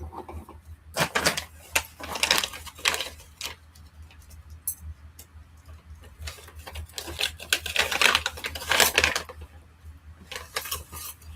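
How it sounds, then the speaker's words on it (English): Rapid keyboard typing comes through as bursts of dense, clattering key clicks, close and fairly loud, with short pauses between flurries and a low steady hum underneath. "Stop typing so fast."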